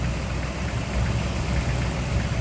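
A 1960 Chevrolet Corvette with its original numbers-matching 283 V8 idles steadily nearby, a loud, even low rumble that holds without pause and has no voices over it.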